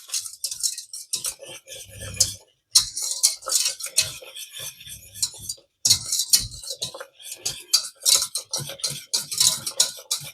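A spoon stirs a thickening sauce with nutmeg in a pan for gratin chicons, giving steady scraping and clinking strokes in repeated bursts with short pauses, close and fairly loud.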